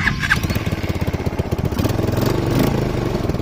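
A homemade ATV fitted with an Apache motorcycle engine idles close by with a steady, rapid chugging rhythm.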